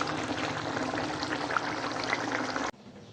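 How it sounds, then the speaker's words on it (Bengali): Cooked bhola fish tel jhal curry with onion is poured out of a kadai, giving a steady, close, liquid rush that cuts off abruptly near the end and leaves quiet room tone. "তো দেখো মাছটা এখন আমি ঢেলে ফেলেছি রান্না করে কড়া থেকে"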